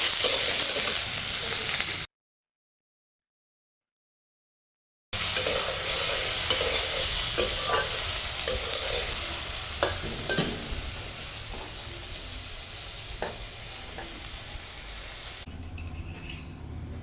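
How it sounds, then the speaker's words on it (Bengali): Eggplant pieces fry noisily in hot oil with a steady sizzle and occasional utensil clinks; a brief silent gap interrupts early on. "আগে মাছের বেগুনগুলো একটু ভেজে তুলে নেব"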